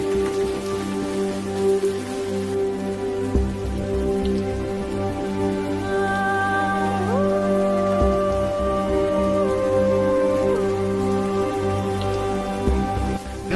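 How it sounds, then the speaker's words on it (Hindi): Steady rain hisses without pause, with sustained tonal notes droning underneath. "बारिश हो रही है"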